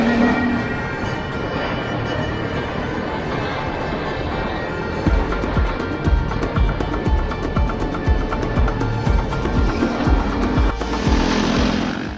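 A KTM SX-F 450 dirt bike ridden fast along a flat mountain track, its engine buzzing steadily with wind rush and bumps, growing rougher and more rhythmic midway.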